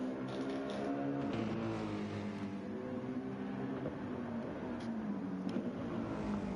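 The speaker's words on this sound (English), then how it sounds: "I will say that Mercedes does sound good." A Mercedes race car engine in a racing video game at Daytona 24-hour endurance race drones steadily with shifting pitch, faint and continuous, heard alone without talk.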